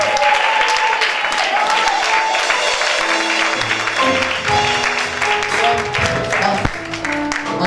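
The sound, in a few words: church congregation applauding and cheering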